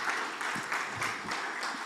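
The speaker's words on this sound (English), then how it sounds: "I would like to have a round of applause for our tech team" An audience at a conference session applauds its technical crew, a steady, fairly quiet wash of clapping that continues without a break for the whole stretch.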